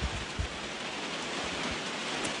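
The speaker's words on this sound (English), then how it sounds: "It's still raining" Steady rain falls outdoors at a festival site, a dense continuous hiss of drops with occasional louder patters, unbroken and with no voices.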